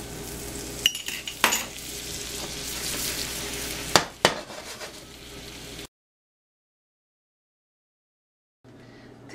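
Stuffed French toast fries in butter with a moderate sizzle, punctuated by a few sharp clinks and scrapes of a utensil against the pan, then the sound cuts to silence before a faint return.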